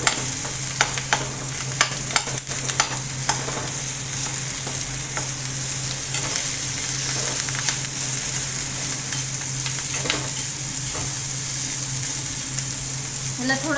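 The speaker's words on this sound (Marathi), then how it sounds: "जे बटाटे आपण बॉईल करून ठेवलेले आहेत ते आपण टाकून त्याला चांगलं प्रेस करून घेणार आहोत" Boiled potatoes pressed into a sizzling masala in a pan for a potato sandwich filling, with continuous frying hiss and intermittent scraping and tapping from a spoon, close and steady.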